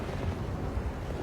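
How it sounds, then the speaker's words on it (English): Deep rumbling blasts boom through ice in a film battle scene, a short heavy low roar with overlapping thuds and no speech. "Massive explosions rip through the ice."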